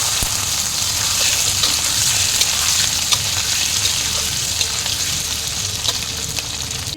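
Boiled potatoes dropped into hot oil already spiced with cumin seeds, asafoetida and cardamom set off a steady, dense sizzle that crackles evenly and close by for the whole stretch, with no talking.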